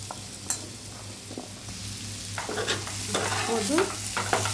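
Elephant foot yam frying in oil in a pan, a close continuous sizzle with stirring scrapes and a few sharp clinks, growing slightly louder toward the end, with no voices.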